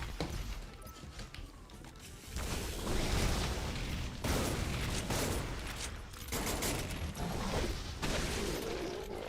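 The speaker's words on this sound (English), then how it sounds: "It's the USC plasma rifle. Wait, yeah, it is actually the plasma gun, that's right." Rapid bursts of plasma rifle fire in a video game, repeated loud, dense volleys separated by brief pauses, with no talk over them.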